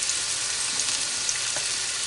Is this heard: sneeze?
no